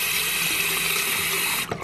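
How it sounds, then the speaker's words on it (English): Tap water runs steadily from a faucet, rinsing a soft silicone spiral ear wax remover under the stream, a continuous close hiss that cuts off near the end. "just turn on the water and just rinse it like this"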